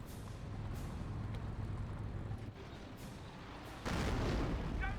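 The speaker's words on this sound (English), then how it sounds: "Grenade or landmine there." An explosion from a grenade or landmine in the Company of Heroes World War II strategy game lands as a sudden louder boom over ongoing battle rumble and distant fire.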